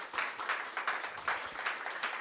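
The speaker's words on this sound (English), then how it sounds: "Let's give them a round of applause." Audience applause at a Yale startup prize event, steady dense clapping from a full room throughout, fairly loud and close, with no speech over it.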